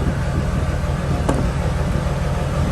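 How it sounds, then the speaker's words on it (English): A steady, loud mechanical drone of a running generator beside a flood-damaged vehicle, unbroken throughout, with a faint knock partway through. "Got the generator here."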